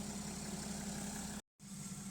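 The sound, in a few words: diesel car engine idling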